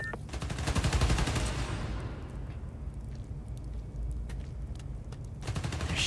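Gunfire in the video game Spider-Man: Miles Morales. Fast, dense bursts of automatic shots rattle close and loud at the start, thin out in the middle, then pick up again toward the end over a constant noisy roar.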